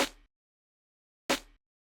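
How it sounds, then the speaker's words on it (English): A layered snare drum sample for a future beat hits twice alone, two short bright cracks about a second apart with quick decay and silence between them. "The snare sounds like this."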